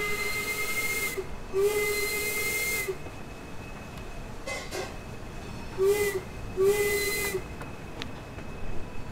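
A vintage steam locomotive in the Train Sim World game sounds two long whistle blasts, each preceded by a hiss of steam, with a short puffing chuff between them.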